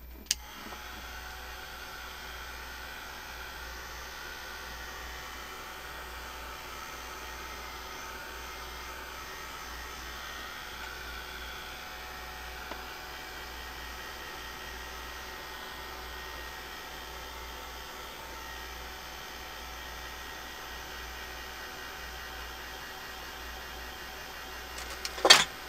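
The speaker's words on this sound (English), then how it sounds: "now I'm going to use my heat tool again" A handheld heat tool blows hot air over a watercolor resist craft, giving a steady, even whir that runs for nearly the whole stretch at moderate level, with a couple of short clicks at the start and the end.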